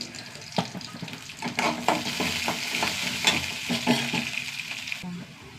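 Urad dal and cumin seeds frying in oil with chana dal and dried red chillies crackle and sizzle up close, with spoon scrapes and stirring clatter throughout.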